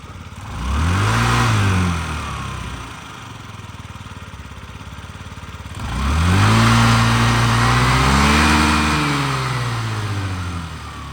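A 2017 Yamaha Jog SA58 fuel-injected scooter engine runs near and loud, rising in two distinct revs with a steady idle between them and no talk over it.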